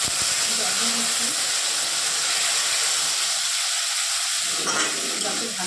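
Water hits spice paste in a hot pan and bursts into a loud, continuous steamy hiss that fills the clip, close and even, with a brief extra surge near the end.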